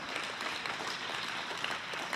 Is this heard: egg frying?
no